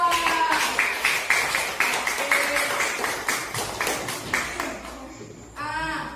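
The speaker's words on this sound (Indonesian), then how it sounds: "Tepuk tangan dulu untuk kelompok 2." Students in a classroom clap for a presenting group, a steady run of rhythmic claps that tapers off, with a voice briefly speaking at the end.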